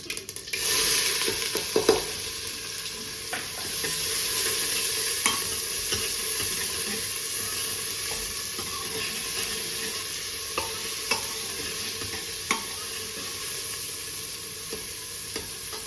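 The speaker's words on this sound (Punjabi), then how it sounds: "ਹੁਣ ਆਪਾਂ ਇਹਦੇ ਵਿੱਚ ਜੀਰਾ ਪਾਵਾਂਗੇ ਪਿਆਜ਼ ਪਾ ਦਾਂਗੇ" Cumin seeds and onion frying in a hot pan for a turnip and fenugreek vegetable dish, a steady close sizzle with occasional stirring scrapes and small clicks throughout.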